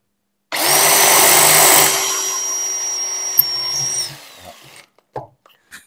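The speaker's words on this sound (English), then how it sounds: "So we're going to just focus on drilling through the tile." A cordless drill drilling through tile whirs at steady high speed for a few seconds, then winds down, followed by a few light clicks and knocks.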